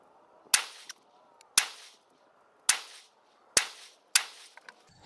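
Five sharp, loud rifle shots from a MaxxTech NFR chambered in 7.62x39 at an outdoor range, spaced about a second apart, each a crisp crack with a short echoing tail.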